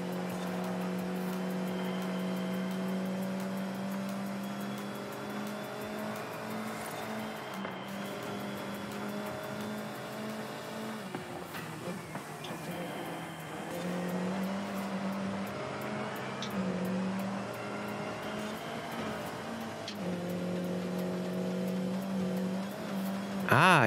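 A car held at full throttle in the racing game Forza Horizon 5, its engine droning steadily and loudly with gear-change dips and a brief tire scrub, continuous throughout with no talk.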